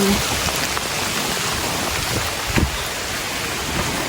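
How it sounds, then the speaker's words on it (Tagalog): Heavy rain pours down steadily at a rural fishpond hut, a dense, even hiss of drops that fills everything without a break, loud and close. "lumakas na po ang ulan"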